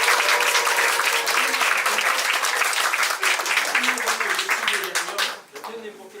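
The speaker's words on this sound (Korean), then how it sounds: "다시 한번 박수." An audience at a residents' briefing session on a neighbourhood redevelopment plan bursts into loud, sustained applause that fills the room, then thins and fades toward the end, with a voice audible beneath the clapping.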